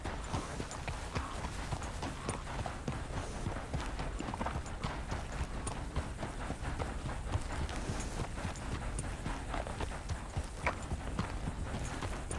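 Rapid, steady clip-clop of horse hooves at a running pace in the video game Red Dead Redemption 2, evenly rhythmic and continuous, with a faint wash of background ambience.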